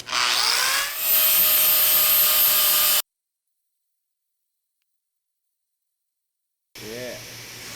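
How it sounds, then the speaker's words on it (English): Hand-forged tomahawk heads being ground, a loud, close, harsh grinding whine for about three seconds, then silence, then a short burst of grinding again. "Let's get to grinding."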